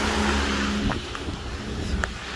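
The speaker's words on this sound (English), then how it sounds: "look at the traffic in Germany" Road traffic in a small, snowy German town, with a car engine rumbling close by and then fading, followed by a few faint clicks and distant vehicle noise.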